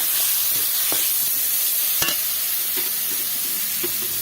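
Red lentils frying with spices in a pan, giving a dense continuous sizzle with a few spatula scrapes and one sharp clink, close and steady.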